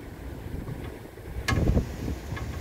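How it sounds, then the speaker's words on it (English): Low rumbling wind buffeting the microphone, with a stronger gust midway. "it's real windy today"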